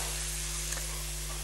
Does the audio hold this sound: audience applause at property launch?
no